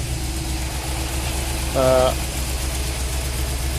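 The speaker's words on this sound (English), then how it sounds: "the engine's been running for 5 minutes now, and the temperature's coming up, engine pressure's looking good." A Rover V8 fitted in a 1953 Riley RMF with a quad-carburettor setup idles at warm-up, a steady loud low rumble throughout, with a brief tonal whine or voice-like sound near the middle.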